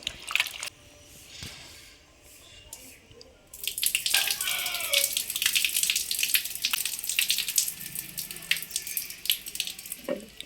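Broad beans being washed by hand in a bowl of salted water, with soft splashing, squishing and sloshing that grows busier midway, quiet and close, with faint voices at times.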